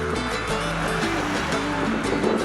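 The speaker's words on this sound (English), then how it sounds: "There's a waterfall." A Yosemite waterfall at the end of a dry summer with little snow runoff, heard as a steady, loud, broadband rush of falling water that stays constant throughout with no voices.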